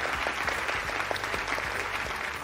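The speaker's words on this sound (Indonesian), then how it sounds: "Tepuk tangan dulu dong." A studio audience on a children's talent show claps for a couple of seconds, a moderately loud patter of hands with a few distinct nearby claps standing out, no talking.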